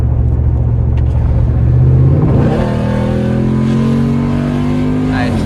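A 2010 Jeep Grand Cherokee SRT8 V8 revs up under a hard pull, its loud, steady engine note climbing in pitch and then holding at high RPM, heard up close from inside the vehicle.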